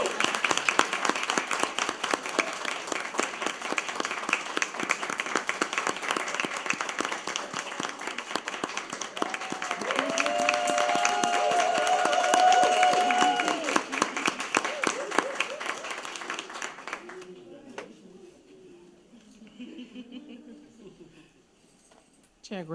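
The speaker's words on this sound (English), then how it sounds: "Let's keep clapping for them." Clapping and cheering from a board meeting audience greet a girls basketball team as they arrive, a steady crowd wash that swells midway and then thins out near the end, with voices mixed in.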